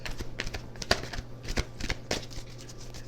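Oracle card deck being shuffled, a series of soft papery riffles and taps coming in uneven bursts, close and quiet, with no voices.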